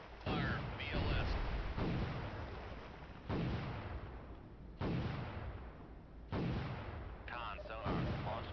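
Missiles launch in the submarine warfare game Cold Waters, four heavy booming blasts roughly a second and a half apart, each followed by a decaying rush. Faint synthetic voice fragments sit between them.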